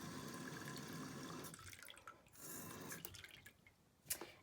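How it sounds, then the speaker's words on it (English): Water is poured into a container for washing embroidery floss, a steady close splashing trickle that breaks into a few drips and small splashes near the end. "I'm going to pour some more water into this container here"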